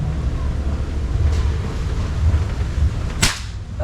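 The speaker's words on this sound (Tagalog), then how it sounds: "Target number 3, firing." An air rifle fires one NB pellet at a target 20 meters away, a single sharp crack near the end over steady outdoor wind noise.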